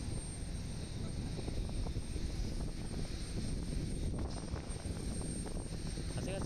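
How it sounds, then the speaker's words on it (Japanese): Airliner making a go-around at Osaka Itami Airport: a steady, broad engine roar holds throughout, loud and continuous with wind-like rumble and no talk over it. "さっきの飛行機は一便着陸しようとして離陸したやつがいますね。 あれです、ゴーアラウンドってやつです。"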